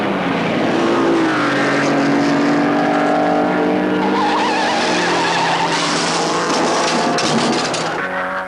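Racing cars roar past at Indianapolis, a loud, continuous blare of engines with rising and falling pitch as they sweep by, a brief tyre squeal near the end and no talk over it.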